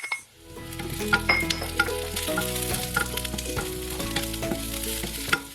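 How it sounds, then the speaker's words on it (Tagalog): Onions sizzle loudly as they sauté in hot oil for Bicol Express. A continuous crackling fry runs alone, without talk, with occasional clatter of stirring in the pan. "Then, idagdag na natin yung sibuyas."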